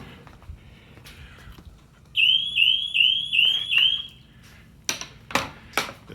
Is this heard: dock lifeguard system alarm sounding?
yes